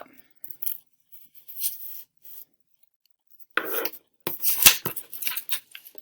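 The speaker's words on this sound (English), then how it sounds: "I'm just going to take my scissors and cut down into that hash mark on the top and the bottom" Several short crisp snips and rasping cuts, close up, in quick bursts separated by quiet pauses.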